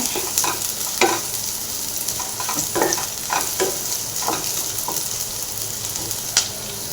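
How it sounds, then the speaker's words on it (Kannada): Paneer keema frying in a pan while being stirred, a steady close sizzle broken by repeated scraping strokes of the spoon at an uneven rhythm, with no voices. "ಈ ಥರ ಫ್ರೈ ಆಗ್ಬೇಕು ಚೆನ್ನಾಗಿ ಥರ ಚೆನ್ನಾಗಿ ಫ್ರೈ ಆಗಬೇಕು"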